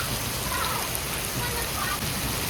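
Heavy downpour pours steadily and loudly throughout, a dense unbroken hiss of rain drumming on surfaces close by, with no distinct thunderclaps standing out.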